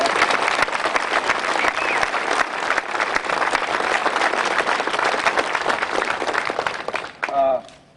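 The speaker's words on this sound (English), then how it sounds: "So maybe a little round of applause for these guys." A crowd applauds in a steady wash of clapping for several seconds at a statue unveiling in Miami. A voice speaks briefly as the clapping ends.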